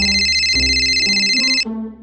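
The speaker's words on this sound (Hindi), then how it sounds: "अरे चाचा जी का ही फोन आ रहा" A cartoon phone rings with a bright, looping electronic ringtone for about a second and a half, loud and clean, then cuts off into a short lower chime.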